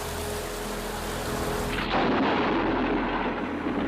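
Heavy rain pours steadily as a loud, deep rumble of thunder breaks in partway through and rolls on close by until the end.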